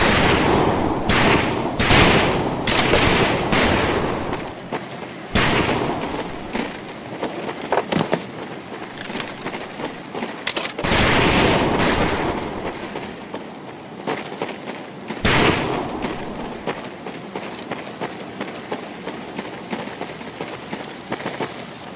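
Rifle shots and heavier automatic weapon fire ring out in Medal of Honor: Pacific Assault, loud repeated bursts and single cracks in uneven clusters with short pauses between volleys.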